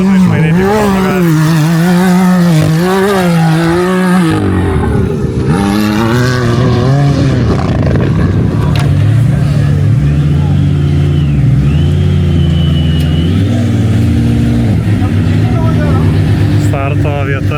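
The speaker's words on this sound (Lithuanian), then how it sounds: "Žiūrim bagiukus." Dune buggy engines at the Abu Dhabi Desert Challenge rally in the desert rev and drone loudly throughout, rising and falling in pitch, while people talk over them.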